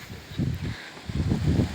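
Wind blows outdoors at a house construction site, gusting in low rumbling buffets against the microphone over a few seconds.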